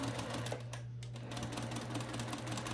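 Sewing machine stitching a quarter inch seam while curved fabric pieces are fed slowly, a steady close mechanical whir with rapid needle ticking and a brief dip midway, fairly quiet.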